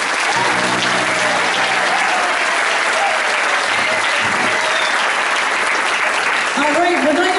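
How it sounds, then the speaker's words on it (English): Audience at a school spring chorus concert breaks into sustained, dense applause that fills the whole stretch at a steady, loud level, with a few voices calling out near the start and end. "So let's give them another round of applause."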